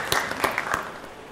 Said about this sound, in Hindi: जोर से ताली हो जाए